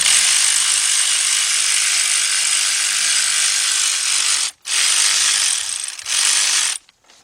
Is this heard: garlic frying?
no